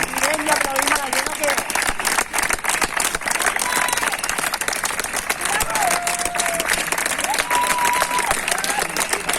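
Neighbours applaud outside a hospital in Martorell, steady dense clapping from a crowd that keeps going throughout, with scattered voices and whistles mixed in.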